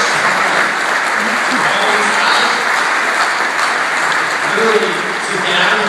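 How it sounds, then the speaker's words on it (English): Audience applause at a charity event, a loud, dense and sustained round of clapping from a sizable crowd, steady throughout, with voices audible underneath. "give everybody in the outskirts right now a big round of applause"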